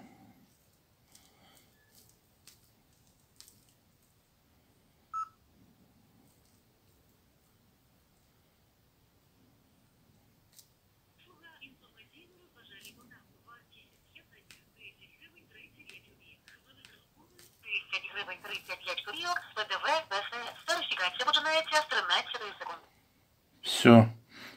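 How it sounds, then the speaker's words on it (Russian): Retro telephone from Spain being dialed, first faint scattered clicks and quiet tones, then a louder buzzy stretch of tone bursts near the end, with a sharp clunk as it finishes. "Сейчас еще раз наберем."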